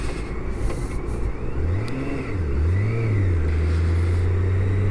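A 2023 BMW K1600GTL touring motorcycle engine revs and accelerates up close, pitch rising and dipping then holding a steady climbing drone over continuous wind rush.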